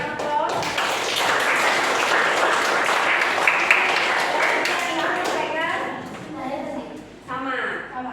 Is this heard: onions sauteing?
no